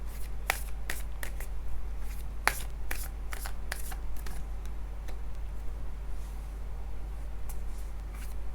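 Tarot cards shuffled by hand for a love reading, giving quick crisp riffling snaps in an uneven rhythm over a steady low hum, close and moderately loud with no talking.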